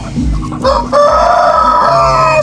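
A rooster crows loudly and close by, a long drawn-out call with clucking fowl around it.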